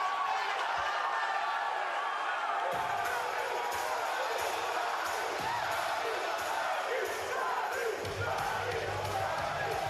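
A live WWE Raw wrestling arena crowd roars steadily, a dense sustained wash of cheering with occasional slams and thumps, heard distantly beneath a nearby voice talking.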